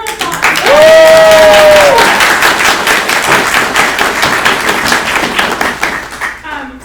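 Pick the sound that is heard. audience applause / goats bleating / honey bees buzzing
audience applause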